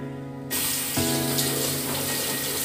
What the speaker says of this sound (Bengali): এখন আমি মুখটা ধুয়ে নেবো